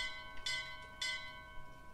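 Two bright metallic bell strikes from the video game BioShock Infinite, spaced about half a second apart, each with a ringing tonal sustain over a quiet background.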